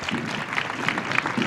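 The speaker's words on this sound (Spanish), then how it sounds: "Escuchamos los aplausos" Spectators along a knights' parade to the Castillo de la Mota during Medina's Renaissance week applaud, a brief, moderate patter of clapping from a crowd.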